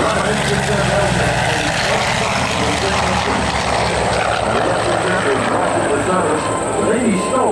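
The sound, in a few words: Vought Corsair fighter plane with R2800 engine flying at airshow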